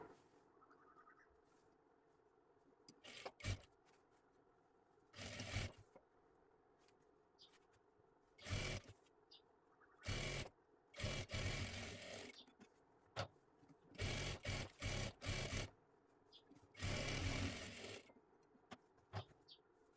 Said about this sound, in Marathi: जोडून घ्यायचं आहे आणि डबल शिलाई देऊन घ्यायची आहे.